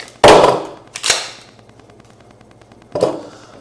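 A Glock 17 Gen 5 pistol being unloaded, with three sharp, close metallic clacks of the slide and action, the first loudest, separated by a longer pause before the last.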